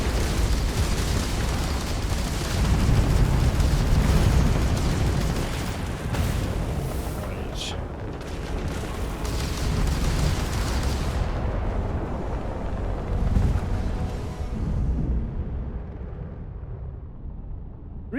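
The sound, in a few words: ship being destroyed by weapons fire in Starfield video game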